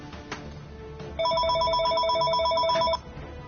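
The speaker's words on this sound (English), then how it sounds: "If the phone would stop ringing." A telephone bell rings in a quick electronic trill for under two seconds, at moderate level over a room background with faint talk and game-session noise.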